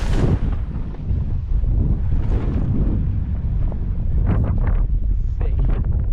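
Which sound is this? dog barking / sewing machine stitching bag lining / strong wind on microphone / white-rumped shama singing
strong wind on microphone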